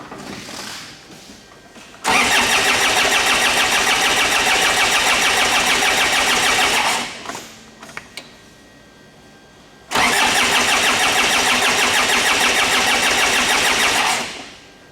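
Ford Ranger / Mazda BT-50 diesel engine cranking without starting: two long, loud stretches of rhythmic starter churning, each about five seconds, separated by a pause, with no talk.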